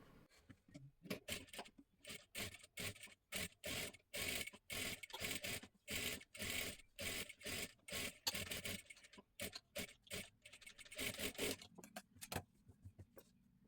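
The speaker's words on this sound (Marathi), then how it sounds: "आता इथे गळ्याला एकदम कडेकडेला आपल्याला शिलाई मारून घ्यायची आहे पूर्ण गळ्याला" A sewing machine runs in rapid repeated bursts while stitching around the neckline of a matka-neck blouse, fast mechanical needle clatter starting and stopping close by with brief pauses between runs.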